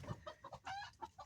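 A sex-link rooster, a rescued bird kept in a coop with hens, giving a short run of soft clucks close by and fairly quiet.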